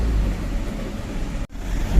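A Tata 1512 truck rolls along a road past rubber estates, its engine giving a steady low rumble up close, with a brief dip in the noise near the end.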